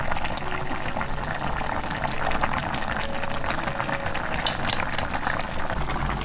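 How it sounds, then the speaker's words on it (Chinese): Fish head and tofu soup with tomato chunks boils uncovered over medium heat, making a dense, continuous bubbling and rolling burble that stays steady and close throughout. "不要盖，调中火，煮个3分钟左右"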